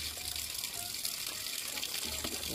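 Steady rushing and splashing water fills the clip, a continuous gush as a chicken is dunked and swished in a basin for plucking, with no voices.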